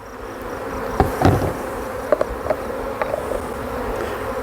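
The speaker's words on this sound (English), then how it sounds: "They're up and flying. These are mostly young nurse bees" Young nurse honeybees taken from a hive buzz in a dense, steady drone close by, with a few sharp knocks and taps over the humming.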